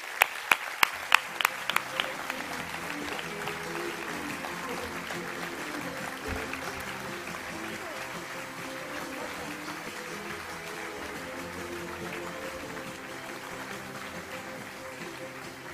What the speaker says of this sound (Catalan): Si us plau, un fort aplaudiment.